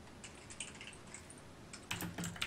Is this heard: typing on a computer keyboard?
yes